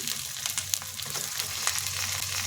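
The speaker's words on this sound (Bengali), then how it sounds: "টমেটোটা ভেজে নেব।" Chopped tomato and ginger frying in a pan for soya pulao, a low steady sizzle with a few soft stirring taps, fairly quiet and without talk.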